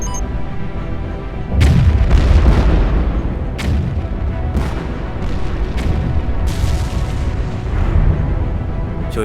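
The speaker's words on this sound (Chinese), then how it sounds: "各单位准备，电磁炸弹引爆倒计时" An electromagnetic bomb in an animated series goes off with a loud, deep boom that rumbles on, followed by several more heavy blasts and bursts spread across the scene.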